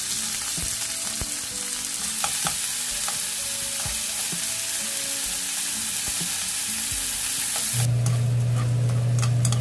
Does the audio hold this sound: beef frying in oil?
yes